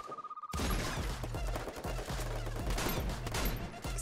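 M82B sniper rifle shots ring out in a video game on an advanced test server, with heavy, sharp blasts and a busy, reverberant barrage of gunfire filling the moment.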